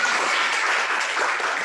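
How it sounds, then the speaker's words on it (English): A church congregation gives a brief, loud round of applause at a Sunday service, a dense burst of many hands clapping that stays steady throughout. "Can we have a round of applause for Julie?"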